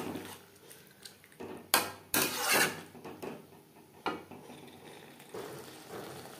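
Capsicum tossed with spices in a pan over medium flame, a spoon scraping and knocking against the metal in a few irregular bursts, one louder clatter early, then quieter stirring.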